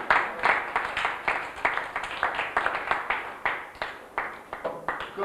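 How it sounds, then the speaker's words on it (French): An audience at a general assembly applauds with sustained, dense clapping that stays steady and fairly close, without talk over it. "Et on a le droit d'applaudir."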